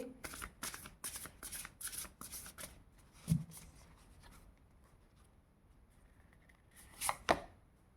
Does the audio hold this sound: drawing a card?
yes